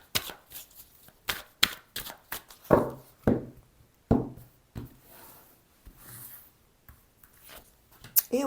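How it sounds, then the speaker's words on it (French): Tarot cards being reshuffled by hand, a run of soft riffling and tapping bursts with brief pauses, close and fairly quiet, with no talk over it. "je rebrasse les cartes"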